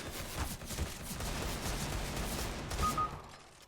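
Rapid bursts of gunfire from the Overwatch video game crackle fairly faintly and continuously, with no talk over them.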